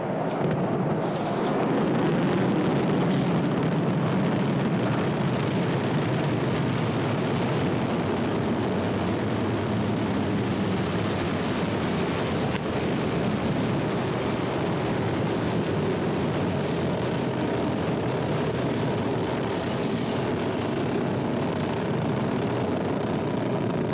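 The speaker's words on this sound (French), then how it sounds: "Le moteur Vulcain est en route. Les propulseurs d'appoint également. C'est la mise à feu. Décollage." An Ariane 5 rocket lifts off with its Vulcain main engine and boosters firing, a loud, unbroken broadband roar that stays steady and heavy for the whole stretch, with no voices.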